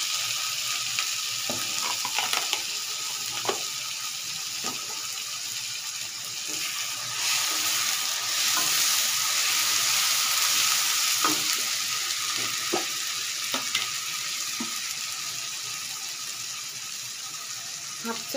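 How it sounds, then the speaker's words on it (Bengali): Spices and chili paste for a Bengali beef and new potato bhuna sizzle steadily in a hot pan, with repeated scraping stir strokes and occasional spoon clinks running close and continuous throughout. "মশলাগুলোকে একটু ভালো করে নেড়ে চেড়ে একটু মিশিয়ে নিচ্ছি।"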